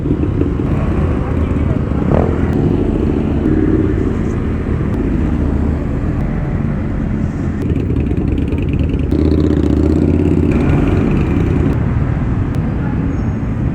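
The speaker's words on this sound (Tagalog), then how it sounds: "ayun yung mga naka big bike kami eto yun yung mga kasabay ko kanina" A group of big bike motorcycles rides together on a mountain road, with a loud, continuous engine drone and wind rumble while a person talks over it.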